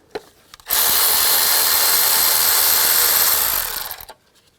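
A 12mm socket spins out a bolt on a 2003–08 Nissan Maxima during an intake gasket job, producing a loud, steady mechanical whir that lasts about three and a half seconds, then stops abruptly.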